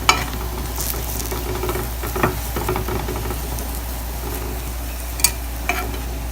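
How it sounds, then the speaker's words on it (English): Missi roti frying in ghee on a pan, giving a steady soft sizzle and crackle with occasional louder pops and scrapes, close by and continuous, with no talking. "I let it cook for a little while, and then I'll apply some ghee on it."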